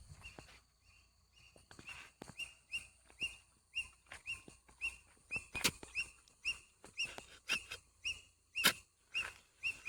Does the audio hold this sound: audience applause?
no